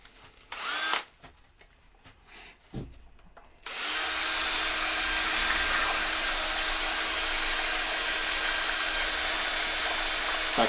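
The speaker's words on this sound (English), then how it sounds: "What I have is a power drill." A power drill starts after a few quiet seconds of scattered handling noises and then runs continuously, loud and steady, as it churns a ten-litre batch of slime.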